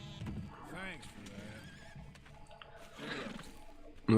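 A horse whinnies in the Red Dead Redemption 2 video game, a short rising-and-falling neigh near the start amid game ambience, with a voice speaking over the scene.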